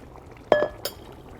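A spoon clinks twice against a metal pot while stirring a green bean and rice stew, two short, bright, close knocks about a third of a second apart over a quiet kitchen background.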